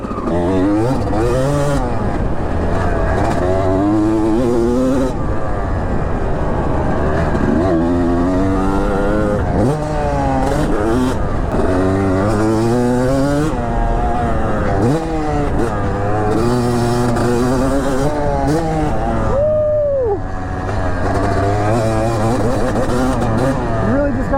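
An old 250cc two-stroke dirt bike being ridden hard, its loud engine screaming and rising and falling in pitch through repeated revs and gear changes, close and continuous.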